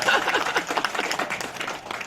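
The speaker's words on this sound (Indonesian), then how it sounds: "Bisa dikasih tepuk tangan" A small gathering at a neighbourhood meeting gives brief applause, a short patter of close, uneven handclaps that thins toward the end.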